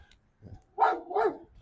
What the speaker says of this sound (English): I heard a dog. It scared me for a bit because he didn't sound like a happy dog.